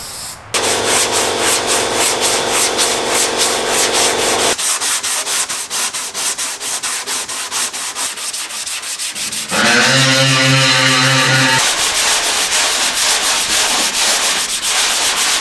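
Steady hand sanding of body filler on a Toyota body panel, a loud continuous scratchy rubbing that runs throughout, with a brief higher, harsher burst of strokes near the end.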